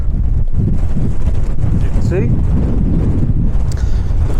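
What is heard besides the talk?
strong wind gusts on a Lake District fell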